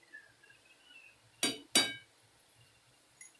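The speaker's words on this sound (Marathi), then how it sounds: "आता याच्यावरती झाकण ठेवून देऊया." A lid set down on a cooking pan of tender green onion stalk vegetable gives two quick, bright metallic clinks close together, loud and near against a quiet kitchen background.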